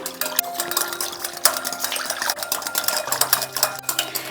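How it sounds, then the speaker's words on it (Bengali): A hand beater whisks milk with a quarter cup of refined oil in a bowl for an eggless fruit cake batter, giving quick, continuous metallic clinking and scraping, close and fairly loud, with no voices. "হ্যান্ড বিটার দিয়ে প্রথমে এটাকে একটু বিট করে নিচ্ছি।"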